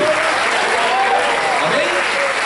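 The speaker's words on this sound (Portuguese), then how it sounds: "Você pode glorificar a Deus e dar uma salva de palmas?" Church congregation clapping together in a steady, dense burst of applause, loud and close, filling the whole moment without speech over it.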